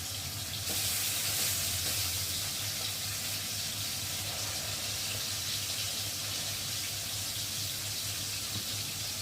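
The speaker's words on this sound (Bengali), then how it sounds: "যে কটা দিয়েছি একটু ভেজে নিই" Chyangra fish fry in a pan with a constant, loud, hissing sizzle that runs evenly throughout without pauses, close up and with no voices.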